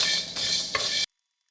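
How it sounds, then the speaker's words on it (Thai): Whole spices stirred and dry-roasted in a pan over medium heat, a steady dry rustling and faint crackle for about a second, then cutting off to silence. "อันนี้เราก็จะคั่วเพื่อให้เครื่องเทศออกกลิ่นหอมดีเลยนะครับ"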